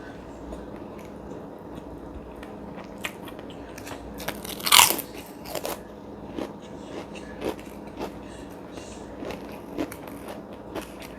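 Crunchy close-up chewing of omelette with fresh cucumber, one loud crisp bite followed by a series of smaller irregular crunches and soft mouth sounds.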